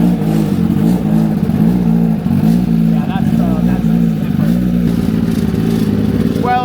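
Kawasaki ZX-10RR, a 2025 superbike, running on a dyno with a loud pulsing engine note and mechanical rattle, rhythmic throbbing and hesitation, with a voice talking over it.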